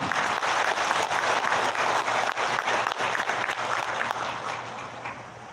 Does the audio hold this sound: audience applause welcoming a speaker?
yes